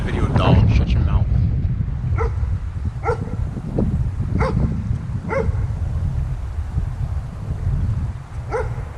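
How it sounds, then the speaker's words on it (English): A dog barking repeatedly at an abandoned church and theatre site, sharp barks spaced every second or so at moderate distance over a rough, windy background. "Dog barking."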